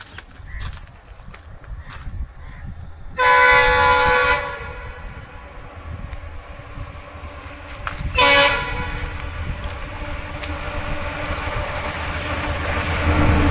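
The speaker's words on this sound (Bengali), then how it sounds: "দেখি এবার কোন ট্রেন আসছে।" Padatik Express of Indian Railways passing with a steady rumble of wheels on track, broken by two loud horn blasts, the first long and the second shorter, as the rolling noise grows toward the end.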